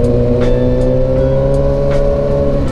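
Steady car engine noise on a winding road through Anilao, Batangas, heard from inside or beside a vehicle amid heavy traffic, with a continuous loud drone and occasional faint revving, no talking.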